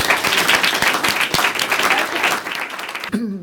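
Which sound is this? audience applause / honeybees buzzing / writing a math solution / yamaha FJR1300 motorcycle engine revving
audience applause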